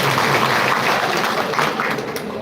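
An audience at a live public gathering gives a brief burst of dense, loud clapping that holds steady and then eases slightly toward the end.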